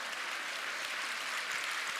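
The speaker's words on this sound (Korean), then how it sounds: "박수." A church congregation applauds steadily at a Korean prayer service, a dense even wash of many hands clapping at moderate volume throughout, with no voices.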